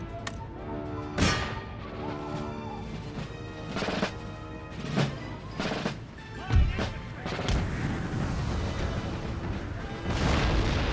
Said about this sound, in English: There's some artillery dropping in finally.